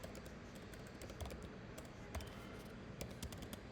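Quick, quiet clicks of typing on a computer keyboard come in uneven bursts over a low background hum, close to the mic.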